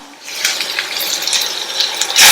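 Water is poured into a coconut paste masala for a radish dish, giving a short, close splashing gush with stirring clatter and a louder burst at the end.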